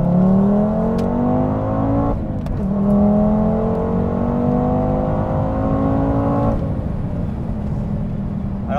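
A car on a race circuit pulls away from 2000 rpm, its engine note rising steadily through the gears in long climbing sweeps with brief dips at each shift. It is loud and close, heard from inside the cabin.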